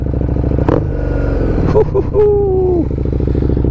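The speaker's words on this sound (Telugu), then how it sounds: "The bike is fucking loud boys. నిజంగా ఒక రేంజ్లో ఉంది బైక్ సౌండ్ మాత్రం." Loud idle of a Harley Davidson Street 750 motorcycle rumbles steadily up close, with a few brief revs and a rising whine over the constant exhaust throb.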